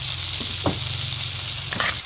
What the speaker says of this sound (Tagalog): ginigisa ko na yung ating bawang. Then, sibuyas. Then, yung ating kamatis.